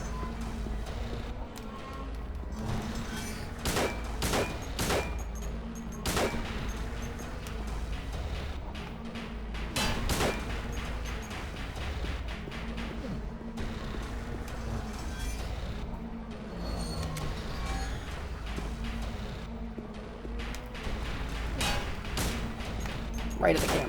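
Gunshots fired at an enemy in the horror game Silent Hill 2, several sharp separate shots spread irregularly across the stretch over a low, steady ambient rumble.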